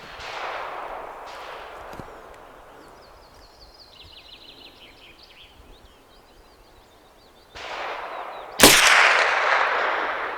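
Several .22LR rifle shots from a Tikka T1X firing CCI Stinger ammunition outdoors, heard as a couple of sharp cracks with rustling and birdsong between them.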